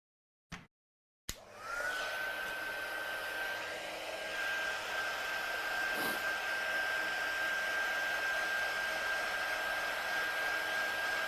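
A hair dryer switches on after a short click and blows steadily and loudly with a constant whine, drying the background of a watercolour painting, alone without talk.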